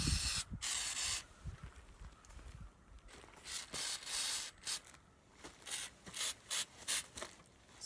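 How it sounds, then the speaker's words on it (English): Spray paint hisses lightly onto pottery in short, repeated bursts separated by quiet pauses, close and fairly soft. "So you want to spray it really lightly, because if you get too much in one spot, it kind of knocks the other stuff off there."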